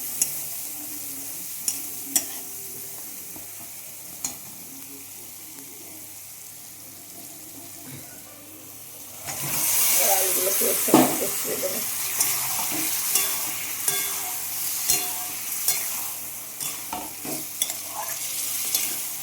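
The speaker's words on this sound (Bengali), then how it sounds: "ভালোভাবে কষিয়ে নেব" Potato curry with fresh peas sautéing in a pan, a spoon scraping and stirring in bursts; quiet at first, then a loud steady sizzle with repeated clinks and scrapes, no talking.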